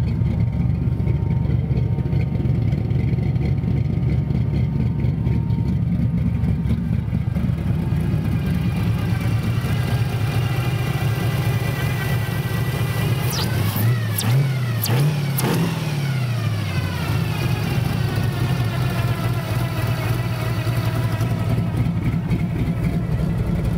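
A car engine fitted with a rebuilt 660 carburetor idles steadily nearby for the whole stretch, with a brief throttle blip and rev swell midway before it settles back to a smooth idle; no talking.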